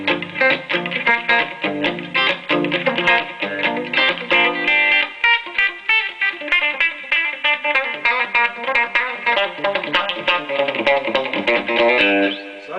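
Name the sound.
Telecaster electric guitar with AboveGroundFX reverb pedal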